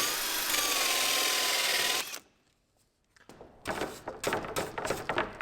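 A power drill bores a 2 1/4 inch hole during a Mercedes Sprinter 170 camper van cabinet build. About two seconds of loud, steady whining drilling cut off abruptly, then a pause and irregular scraping and clattering.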